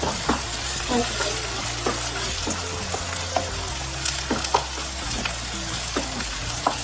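Ginger garlic paste frying in a pan, a continuous close sizzle with repeated sharp scrapes and clicks of stirring throughout, over a low steady hum.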